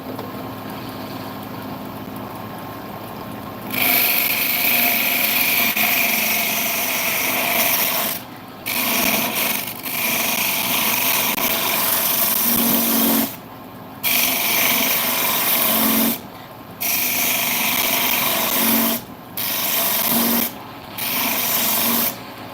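Wood turning on a lathe with gouges and skews, loud continuous scraping and shaving hiss in long bursts, broken by several short pauses as the tool lifts off the spinning wood.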